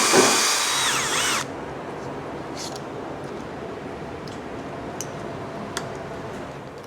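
A drill-driven hone whirs briefly inside the cylinders of a Toyota turbo diesel engine during an overhaul, then stops, leaving quiet background with a few light clicks and taps.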